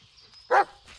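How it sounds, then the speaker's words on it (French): A single sharp dog bark from the video game Blair Witch sounds in a forest setting, close and brief, set against quiet ambience with a faint high tone. "Pourquoi t'aboies là-bas?"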